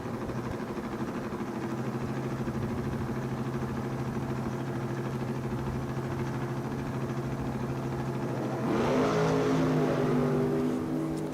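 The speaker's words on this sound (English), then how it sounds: "Driving Gary Brown's car. Good looking Beretta, and it does haul the mail." A Beretta drag race car on the strip, its engine holding a steady loud drone before rising sharply in pitch as it accelerates hard near the end.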